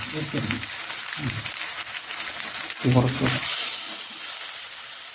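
Mackerel coated in spice masala sizzles in hot oil as it is laid into the pan, a steady bright frying hiss throughout with a few soft bumps and handling sounds.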